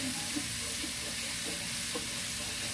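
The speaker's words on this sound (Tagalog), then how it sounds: "naglagay tayo ng kawali, nilagyan ng mantika. Tapos nilagyan natin ng luya. Ayan. Kumukulo-kulo." Ginger sizzles in hot oil in a frying pan, a soft steady hiss with faint bubbling and occasional stirring clinks, quiet and close with no talking.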